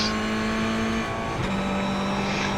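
Mazda MX-5 production race car in the iRacing sim at Lime Rock Park, a loud, steady engine whine that drops sharply in pitch mid-way as the driver shifts, continuing as a sustained buzz with no talking.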